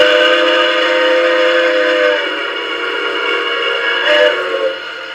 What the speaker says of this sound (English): F2 is the long whistle.